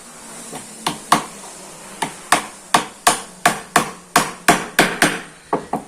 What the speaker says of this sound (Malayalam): ഒരാണി നമുക്ക് കൊടുക്കാം.